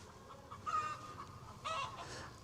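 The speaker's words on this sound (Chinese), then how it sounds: "又看到散养的公鸡了，公鸡母鸡都有。" Free-range roosters and hens in farmland give two short, faint clucks about a second apart over a quiet rural background.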